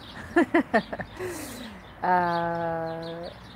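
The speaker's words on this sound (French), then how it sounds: "On est accompagné du chant des oiseaux qui là se chamaillent dans la haie." Birds squabble and sing in a hedge: a few quick sharp chirps, a brief rustle, then a longer harmonic call held for over a second, fairly close.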